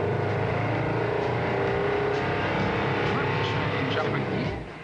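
A compressed-air powered prototype car pulls away from a standstill, a steady loud mechanical whir and rumble running continuously before easing off at the end, with voices talking over it.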